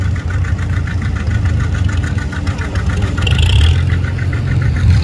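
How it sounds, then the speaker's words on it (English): An antique John Deere tractor engine runs steadily at a pull, its low, rhythmic popping chugging continuously and fairly loud, with crowd and other engine noise mixed in around it. "that John Deere, he just pop,"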